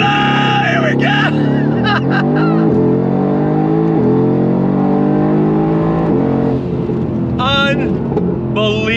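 A Mercedes-AMG GT R with a 7-speed dual-clutch gearbox launches hard under launch control, its engine roaring loud and close as it climbs through rising revs with brief shift breaks and someone shouting over it.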